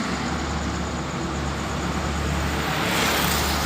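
A Makmur bus drives on the road ahead on a Pekanbaru route, heard as a steady, loud wash of engine and road rumble that holds evenly throughout with no voices.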